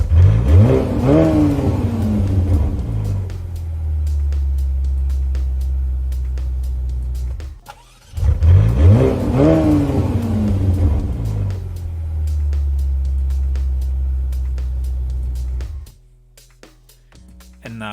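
A Ferrari Roma's engine and exhaust rev twice, each time rising into a loud, close roar and then settling into a steady idle rumble before cutting off.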